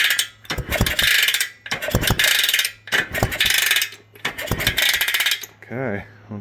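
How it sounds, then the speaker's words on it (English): The engine of a 1971 Bultaco Alpina 250 motorcycle kicked over with the spark plug out, producing four or five rhythmic mechanical clanking and ratcheting cycles, close and loud, with a short tonal sound at the end. "let's kick it over and get some of that lube distributed"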